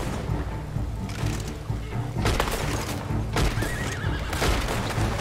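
A horse in the video game Red Dead Redemption 2 neighs and whinnies loudly amid game noise, with hoof clip-clops and booming impacts repeating across a dense, chaotic mix.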